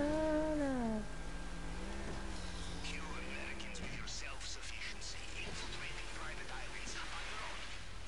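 A house cat gives a drawn-out wavering meow close by, followed by softer rustling and scratchy movement sounds.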